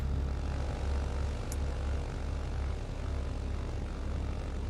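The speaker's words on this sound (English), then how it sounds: "By the way, I've turned the engine sound way down." Propeller engine of a BN-2 Islander in Microsoft Flight Simulator, set to low volume: a steady, even drone that runs unbroken throughout, with no speech.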